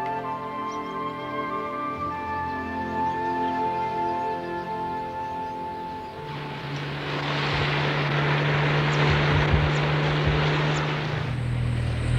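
Propeller aircraft engine drones steadily, then swells into a louder rushing roar as the plane lands on river waters downstream from Lake Victoria, with no voices.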